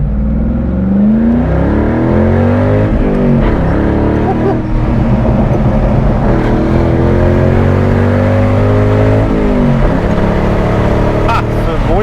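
Ford Mustang Bullitt with a 315-horsepower V8 revving hard, its deep engine roar climbing and falling in repeated sweeps, loud and close throughout.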